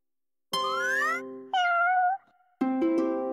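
Cartoon cat meows from the Sparkabilities Toddler educational game, three separate clear tonal mews with rising and falling pitch, loud and close with short gaps between them and no talking.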